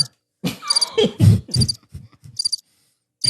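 Crickets chirp in short, bright pulsed bursts, close and fairly loud, with soft low murmuring sounds between them.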